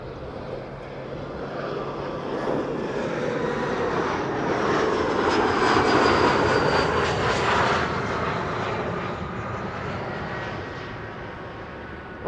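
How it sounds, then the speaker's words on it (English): Aircraft engines spool up at Amsterdam Schiphol Airport, a broad roaring whine that swells to a peak midway and then eases slightly, heard from a distance as a constant wash of noise without speech. "Also the sounds"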